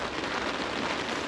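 Heavy rain from Storm Darragh drumming on a tarp over a camping tent in strong winds, a dense, continuous hiss with no voices.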